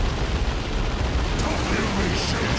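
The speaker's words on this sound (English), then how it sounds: "we got a tank up here, which I'm going to throw a grenade at." A grenade blast against a tank in the Warhammer strategy game Dawn of War Retribution: a loud, broad burst of explosive noise that rumbles on briefly, with a second, fainter crackle toward the end.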